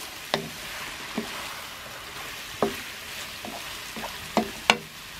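Shrimps and broccoli stir-fry in a mayonnaise sauce in a pan, a constant sizzle broken by a few sharp scrapes and clacks as a utensil stirs the food.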